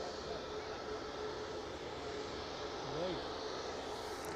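Aircraft engine drone at East Midlands Airport as a plane taxis onto runway 09 and lines up on the centre line in the evening, a steady distant roar with a brief rising whine near the end.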